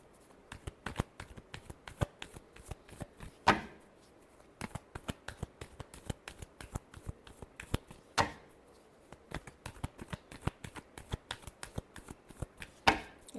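A deck of tarot cards is shuffled close up, quick riffling clicks and soft slaps repeating in rapid bursts with a few sharper snaps between, quiet overall.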